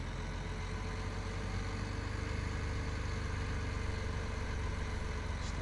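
Tractor engine idling in Farming Simulator 2017, a steady low mechanical drone that holds constant and fairly loud throughout, with no talking over it.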